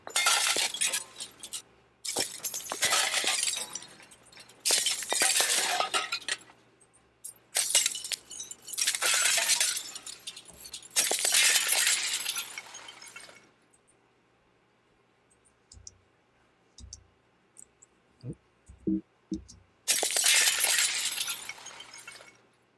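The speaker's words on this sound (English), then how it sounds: "Falling glass." Falling glass sound effects for a blast-and-debris sequence, playing as a series of loud, bright shattering and tinkling bursts separated by pauses, with a few faint clinks of settling shards in between.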